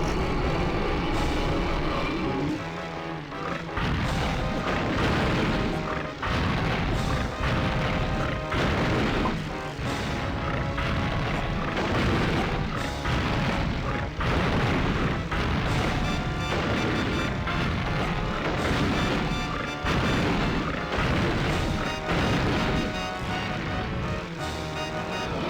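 Boss in Donkey Kong 64 leaping onto a platform and unleashing a shockwave: loud, dense crashing booms and rumbling impacts repeating steadily over game music, with no talking.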